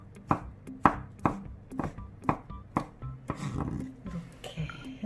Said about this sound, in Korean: 요거는 그냥 잔잔하게 다지듯이 그렇게 잘라주세요.